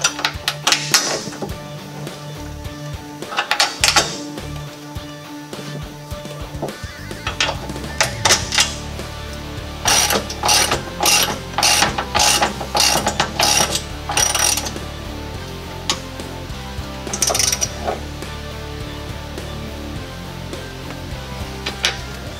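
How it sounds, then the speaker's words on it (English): Metal clinks and rapid ratchet clicks while bolting a 1-ton axle spring bracket into place during an LS K5 Blazer axle swap in a garage, sounding as bursts of close, bright clicking with short pauses between them. "So let's get these bolted in."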